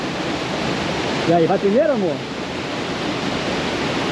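A waterfall cascades in Portugal as a steady, loud broadband roar throughout, with a brief voice speaking over it partway through.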